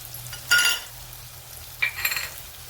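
Garlic sautéing in a pan gives a soft, low sizzle, with two louder bursts of spatula scraping and light metallic clinks against the pan, close up and with no speech.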